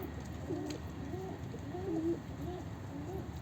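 A pigeon coos to call for a mate, several soft, rolling coos repeating at a steady pace, fairly quiet against faint background noise.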